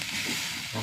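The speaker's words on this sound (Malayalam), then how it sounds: "നന്നായി മുളക് വറുക്കുന്നുണ്ട്" Dried red chilies frying in hot oil make a brief, soft, even sizzle with no voices.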